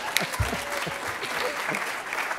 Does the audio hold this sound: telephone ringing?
no